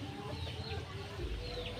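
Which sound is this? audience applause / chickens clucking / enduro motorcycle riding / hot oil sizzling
chickens clucking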